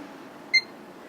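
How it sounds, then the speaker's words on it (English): A newly rebuilt stream encoder PC gives a single short, high electronic beep as it powers on, clear against a quiet hum of the room. "Okay, we get a beep."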